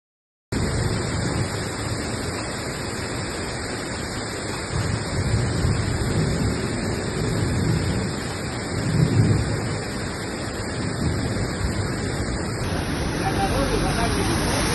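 Heavy downpour with thunder over suburban garden plots near Chelyabinsk: a continuous dense roar of rain, with a louder rumbling swell about two-thirds through.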